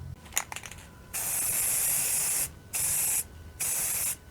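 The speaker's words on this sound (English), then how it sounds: "I'm going to spray the first coat" Spray can or spray gun laying a first coat of paint on cabinet doors, three steady hissing bursts of about a second each with short pauses between, close and fairly loud, after some faint handling clicks.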